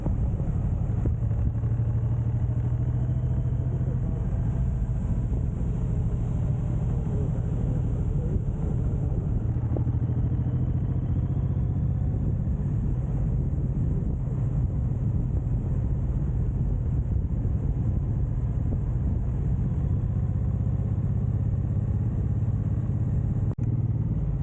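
A Suzuki M109R motorcycle cruises steadily through gravelly country roads near Castellar de la Frontera in Spain, a constant low engine rumble mixed with heavy wind rush, unbroken for the whole stretch with no talk.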